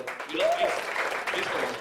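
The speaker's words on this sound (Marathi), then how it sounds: "विनोद सातवसाठी एकदा जोरदार टाळ्या वाजवा" Audience applause at a Marathi film trailer launch event, a short burst of clapping from a crowd with a voice briefly calling out over it.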